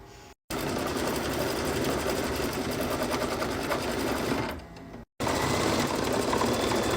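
An embroidery machine stitches a tack-down line to hold tater tot applique fabric in the hoop, a fast, steady mechanical whir running loud and close, with two brief pauses.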